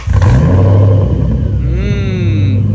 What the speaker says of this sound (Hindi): हम गाड़ी स्टार्ट करते हैं